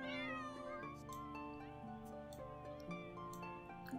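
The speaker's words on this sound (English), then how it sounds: "Oh, look at all the cats." Several cartoonish cats in The Sims 4 meow over a steady bed of game music, their calls close and repeated, some rising in pitch, with no talking.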